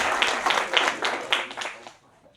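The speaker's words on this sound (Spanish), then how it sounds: "Un aplauso" Audience applause at a doctoral thesis competition awards ceremony, a short round of crisp individual claps standing out in a rhythmic pattern before fading quickly to quiet.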